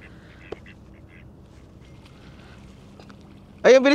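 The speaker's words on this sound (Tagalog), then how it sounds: "Ayan na yung mga bibe." Ducks on Lake Brienz, Switzerland, break into a loud burst of quacking near the end, after several seconds of calm lakeside ambience.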